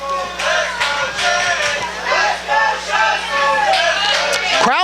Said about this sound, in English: We hear a lot of Chase Dakota chants as well as Chris Lee chants